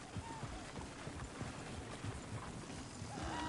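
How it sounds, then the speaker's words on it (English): Horses in the Red Dead Redemption 2 video game, a quiet, busy patter of hooves clip-clopping under a wash of ambient noise, fairly distant and continuous. "Oh, shit, the horses! Damn horses."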